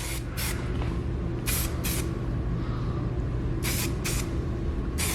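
A spray gun lays a primer coat onto a vintage Bomex bumper with a continuous hiss over a steady compressor hum, broken by several short, sharp bursts of spray, close and loud with no talk.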